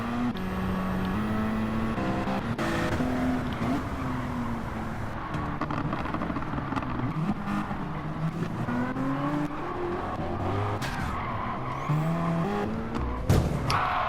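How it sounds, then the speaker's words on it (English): A racing-game car, with a Mazda RX-7 among the field, locks its brakes and skids, engine droning under squealing tires and pitch-shifting revs, with a sharp impact near the end. "He just locked the brakes up."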